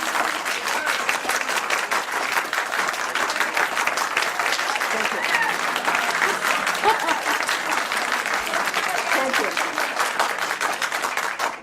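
Prolonged applause from an audience fills the space, loud and continuous for several seconds, with a crowd murmur and faint voices mixed in beneath the clapping.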